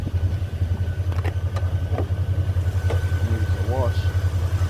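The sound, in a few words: Mercedes CL550 engine idling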